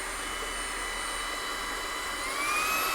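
A Fanttik V10 Apex cordless vacuum runs on low speed with a steady close whine and airy roar, its pitch rising slightly near the end.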